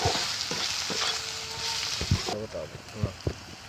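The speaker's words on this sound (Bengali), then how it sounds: "মশলাটা ভালো করে কষে নেবো আমি" Onion masala with cumin and coriander powder fries in a pan for an Aar fish curry, a continuous sizzle broken by spatula scrapes and stirring knocks, with a brief voice underneath the cooking noise.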